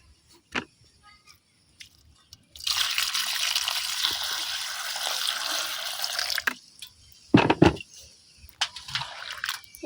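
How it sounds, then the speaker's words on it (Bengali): Wild taro stolons being rinsed clean by hand in water: a steady splashing, trickling wash of about four seconds, then brief sloshes and drips, close and moderately loud with no talk. "এখন আমি পরিষ্কার করে ধুয়ে নিলাম।"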